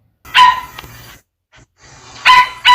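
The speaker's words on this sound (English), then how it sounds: "that's my dog you keep hearing barking in the back." A pet dog barks at home in a few loud, close bursts separated by short pauses, with faint breathing and whimpering between them and no talk.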